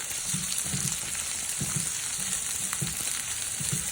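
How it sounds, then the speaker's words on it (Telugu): Sliced bitter gourd tossed with fresh grated coconut fries in hot oil, giving a dense, steady sizzle close up with soft, rhythmic stirring scrapes underneath. "బాగా తిప్పుతుంది ఆయిల్ అంతా దగ్గరికి వచ్చేసేటట్టుగా అయ్యే వరకు మనం ఫ్రై చేసుకుంటాం"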